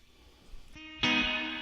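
An electric guitar played through a Joyo Atmosphere reverb pedal in plate mode with the mix set low: a quiet note, then a brighter strummed chord ringing out with a short, subtle reverb tail, alone.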